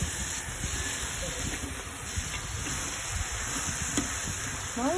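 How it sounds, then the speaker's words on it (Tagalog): Biko sticky rice being stirred with sugar in a hot pan, a continuous sizzling hiss with scraping, shuffling stir strokes throughout, close and steady with no talk. "Haluin natin sa asukal."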